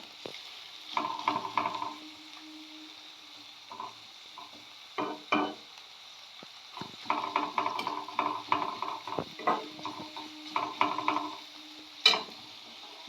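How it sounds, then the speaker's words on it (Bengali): Onion frying in oil in a kadai, a soft intermittent sizzle with stirring scrapes and clicks that comes and goes in short bursts, close and fairly quiet. "আমি এই একই কড়াইয়ের মধ্যে পেঁয়াজটাকে দিয়ে দিয়েছি তেলটার মধ্যে"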